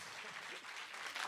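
A concert audience claps for a guitarist at a private show, a short burst of dense applause at moderate level.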